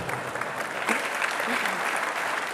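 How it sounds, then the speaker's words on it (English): A keynote audience at NIWeek 2009 breaks into steady applause that fills the hall, with a voice briefly heard over the clapping. "Oh, did somebody want to clap?"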